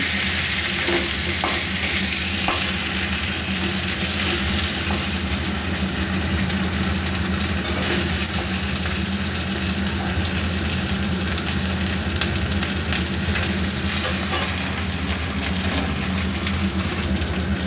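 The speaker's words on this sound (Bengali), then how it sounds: "এইভাবে আদা বাটাটা আমি মাছের মাথার সাথে ভালো করে মিশিয়ে নেব।" Fish head frying with ginger paste in hot oil, a steady dense sizzle running without pause under occasional utensil scrapes, close and fairly loud with no talking.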